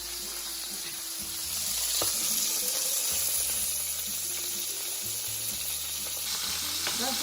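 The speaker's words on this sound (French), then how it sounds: "nous avons mis de l'huile dans la poêle dans laquelle nous allons frire les saucisses" Sausages frying in hot oil in a pan give a steady, dense sizzle and hiss, close and fairly loud, with faint clinks and stirring underneath.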